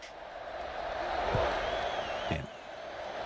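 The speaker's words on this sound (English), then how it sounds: "this crowd is buzzing after that last score" Crowd noise at a college football stadium after a score, a steady, dense roar of many voices rising and falling, with a couple of brief thumps standing out.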